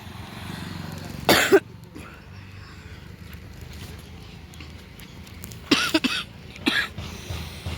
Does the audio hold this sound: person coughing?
yes